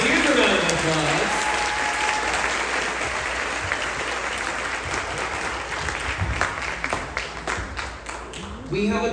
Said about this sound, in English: Rocketeers, let's give our parents a round of applause.